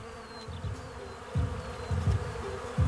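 Black honeybees buzz in a dense, continuous drone with pulsing swells as individual bees pass close by, loud and near with no voices.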